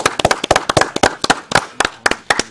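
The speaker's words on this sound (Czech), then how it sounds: "Tak zatleskáme." Close, loud hand clapping in a steady uneven rhythm, a single person or a few people clapping sharply for about two and a half seconds with no talk.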